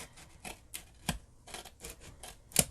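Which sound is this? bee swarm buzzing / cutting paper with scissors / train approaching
cutting paper with scissors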